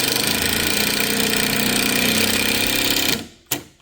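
A power drill drives a 1 1/4 inch coarse thread screw into cabinet wood, a loud continuous whirring motor held for about three seconds before stopping abruptly, followed by a brief knock.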